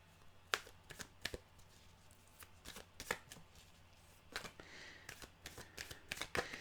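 Oracle cards shuffled by hand, a run of crisp riffling and slapping bursts with short pauses, close and moderately loud over a low background hum, no voices.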